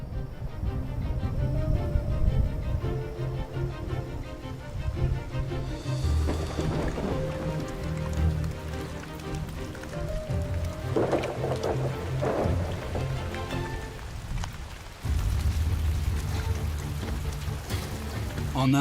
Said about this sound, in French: Un roulement de tonnerre annonce la métamorphose de la forêt.